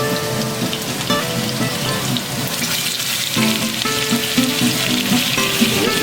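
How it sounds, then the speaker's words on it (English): Beef fillets sear loudly in a hot frying pan, a dense, close, unbroken sizzle that crackles like heavy rain, with a few faint clinks as the meat settles; no voices. "We're gonna sear our fillets. We're gonna take them and put them in there."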